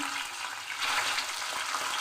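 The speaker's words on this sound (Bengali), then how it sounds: "প্রথমে আমি কড়াই তেল দিয়ে মাছ ভেজে নিচ্ছি" Pieces of rohu fish frying in hot oil in a wok, a close, steady crackling sizzle with no voices.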